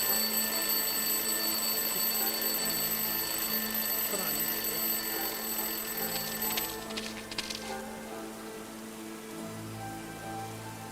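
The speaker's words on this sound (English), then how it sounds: "I'll place the alarm clock in the rubbish bin. Let's see what happens when it goes off." A video game alarm clock rings from inside a rubbish bin, a steady continuous bell-like ringing that carries on for several seconds before cutting out, leaving low ambient game sound.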